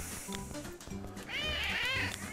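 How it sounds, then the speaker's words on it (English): A cat in the cat-corralling game CatNab lets out a high, wavering meow toward the end, heard over busy game music and ambient sound. "Cat."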